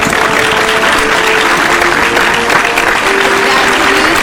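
Audience applause at the IISTAC 2023 award distribution for new scientists, as the Kalam Research Award on Pharmacy is presented; dense, steady clapping fills the room throughout at an even, loud level.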